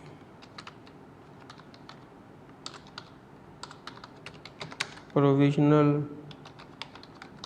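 Keys tapped on a computer keyboard while entering text into an Excel spreadsheet, scattered light clicks in short bursts, with a brief stretch of someone speaking partway through.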